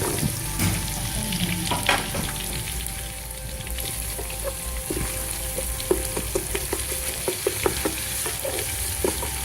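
A pan sizzles steadily while frying for Pakistani chicken korma, a loud even crackle with sparse pops and scattered spatula taps, no talk.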